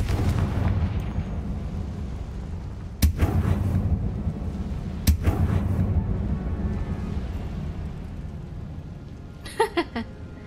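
The Confringo spell from the video game Hogwarts Legacy going off: two sharp blasts a couple of seconds apart over a constant low game rumble, followed near the end by a short burst of crackling impacts.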